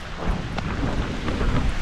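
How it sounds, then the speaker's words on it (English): Thunder rumbles low and continuous through a heavy rainstorm outdoors, with steady rain noise and some wind buffeting the microphone, no talk. "There's the thunder."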